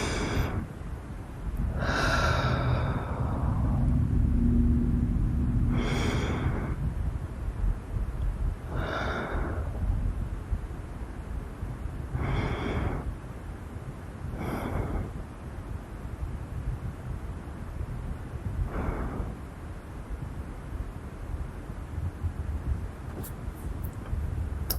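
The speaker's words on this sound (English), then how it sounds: "I'm just going to take some deep breaths." Slow, deep breaths taken during a self-hypnosis session, close to the microphone, with about seven long inhales and exhales spaced several seconds apart against quiet background hiss.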